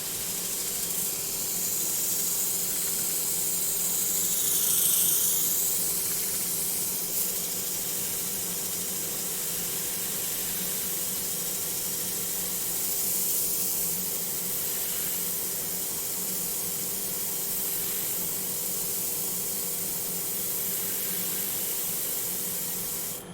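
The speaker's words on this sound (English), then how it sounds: "Now we just come in again with an 80 grit in the middle." A turned wood bowl being sanded with 80 grit abrasive on a spinning lathe gives a steady, loud hiss and rush that runs continuously throughout, with slight swells in intensity and no talking.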